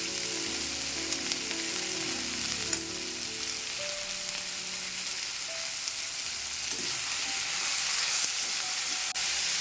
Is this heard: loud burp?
no